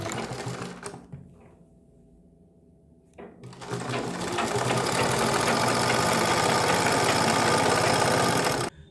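An electric sewing machine runs briefly, pauses for a couple of seconds, then stitches steadily along a fabric strip with a fast, even mechanical whir and rapid needle clatter, close and loud.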